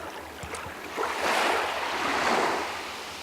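Ocean surf rolls in as a broad wash of water that swells loudly in the middle of the span and then eases off. Wind buffets the microphone lightly underneath, and no voices are present.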